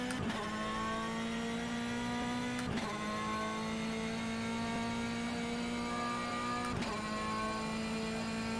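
Exterior engine note of a race car in the rFactor 2 sim during an endurance test drive, a steady droning tone held at fairly constant revs with brief clicks on gear shifts, moderately loud and alone.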